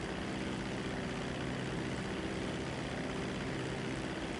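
A fixed-wing propeller aircraft engine in GTA 5, flown by a computer-controlled chase unit, holding a steady, loud, even drone with no break throughout.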